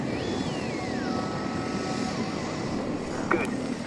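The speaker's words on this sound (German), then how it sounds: "Eine Drohne, die fliegt." A flying drone probe in the sci-fi game The Invincible gives a steady, droning engine hum with a gliding whine that slowly falls in pitch, followed by a brief electronic blip near the end.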